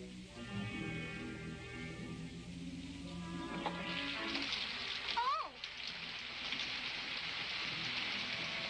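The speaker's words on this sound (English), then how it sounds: "It's raining." Steady rain falls outside a house at night as a soft, constant hiss throughout, with a brief creak or thump partway through and no talking.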